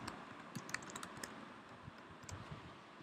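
Keys clatter on a computer keyboard while lowercase text is typed into a spreadsheet cell, a close, steady run of soft clicks at an even pace with no voice.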